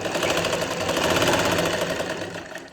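A sewing machine stitches a finishing strip onto a dupatta, a brief, close, rapid mechanical hum that runs steadily, then eases off at the end.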